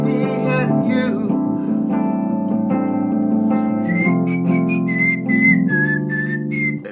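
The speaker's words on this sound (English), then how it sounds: "I won't subject you to any more of my whistling." A person whistles the melody of a song, a clear, steady tune carried alone and close up with no other sounds.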